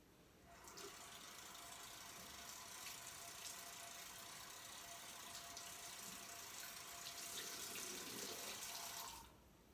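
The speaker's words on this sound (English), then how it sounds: "I'm going to be running the water a little bit" Tap water runs steadily into a sink, a continuous close splashing stream that stops abruptly near the end.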